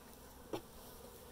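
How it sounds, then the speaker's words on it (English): Bees buzzing around a beehive, a steady faint insect drone with one brief louder pass of a bee close by, no talk. "there is a lot of bees"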